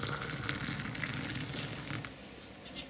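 Water is poured into a Kelly Kettle Scout outdoors by a campfire, a soft continuous splashing trickle heard fairly faint and close.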